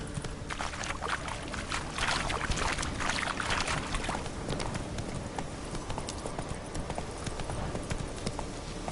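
Roach, the horse from The Witcher 3, gallops at full pace, with a dense rapid clatter of hooves close by and a faint watery splash under the rhythm.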